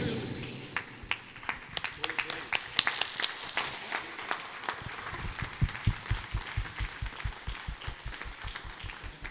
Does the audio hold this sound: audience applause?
yes